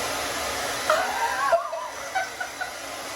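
A hair dryer on its cool setting blows steadily over Curlformers, a soft continuous whoosh with faint whirling variations as the airflow shifts partway through.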